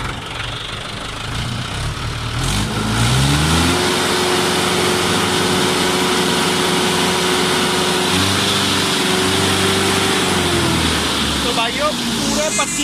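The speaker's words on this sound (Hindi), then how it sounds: "आरपीएम दिखाइए भाई, कितने खोल रखे, पूरी रेस कर दे।" A Mahindra 575 tractor engine revs up from a low rumble to a steady, loud full-throttle drone that holds for several seconds before easing off slightly near the end, with people talking nearby.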